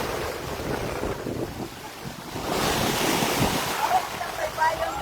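Big sea waves wash onto the beach at Himoaw, Hilongos, Leyte, with a steady broadband roar and gusty wind buffeting the microphone, swelling louder in the second half.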